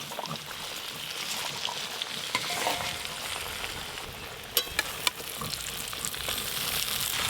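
Malabar spinach dropped into a pan of potato and pumpkin frying on a village stove, a steady close sizzle with a few sharp clacks of a stirring utensil near the middle.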